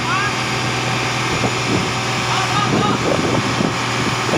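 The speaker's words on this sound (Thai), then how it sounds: "ต้องเร่งเครื่องช่วยครับ" An Isuzu 240 long-nose ten-wheel trailer truck with a 6BB engine revs hard under load, a close, steady low drone with rhythmic pulses, while someone talks over it.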